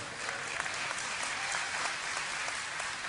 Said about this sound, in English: So get ready to applaud more